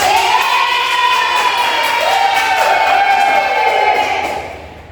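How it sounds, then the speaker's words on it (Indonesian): Children in a classroom cheer and shout together in a loud, sustained group burst that holds steady for several seconds before fading at the end. "Oke, beri tepuk tangan."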